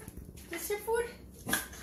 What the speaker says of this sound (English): Hey, don't bark at me.